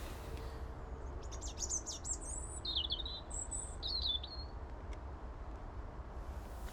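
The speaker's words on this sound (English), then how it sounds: "You can hear them tweeting, and quite a few of them." Several bullfinches tweet in quick bursts of high chirps over steady low outdoor rumble, with a few calls overlapping.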